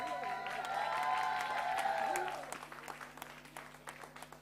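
An audience at a cancer survivorship day anniversary celebration breaks into warm applause, the clapping swelling over a voice at first and then continuing as scattered claps that slowly thin out.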